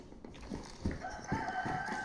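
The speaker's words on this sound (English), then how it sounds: "And a chicken." A rooster in DayZ crows once, a drawn-out cock-a-doodle-doo rising over soft clucking and rustle, fairly close and clear with no voices.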